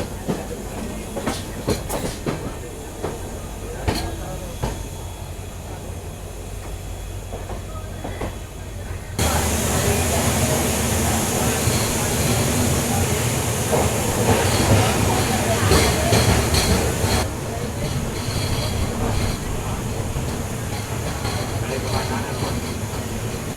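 A Chennai Central to Ektanagar superfast sleeper class express rolling along the tracks, with steady loud rumble and clatter. The noise swells sharply partway through, and faint talk runs under it.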